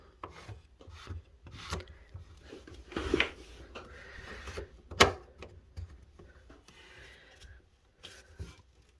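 A drain S-bend plastic fitting being tightened back up by hand, with quiet intermittent rubbing and creaking twists, a couple of sharper knocks and scrapes in between, close by with no talking.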